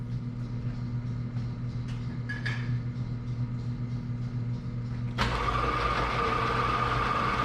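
A metal lathe runs at about 1,000 RPM with a Seiko non-ferrous insert, giving a steady low mechanical hum that turns into a louder, brighter cutting hiss partway through as the insert engages the part.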